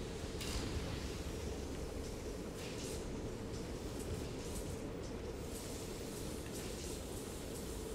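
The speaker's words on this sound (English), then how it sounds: "Why does his mouth sound like a train?" Huggy Wuggy's mouth in a horror video game, giving off a continuous low rumbling drone like a passing train, steady and loud throughout with no talk.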